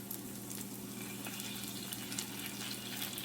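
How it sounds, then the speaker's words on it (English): Butter sizzling and frying in a pan while butter chicken is being made, a steady dense crackle and hiss that runs without a break at moderate level. "Adding a little bit of butter."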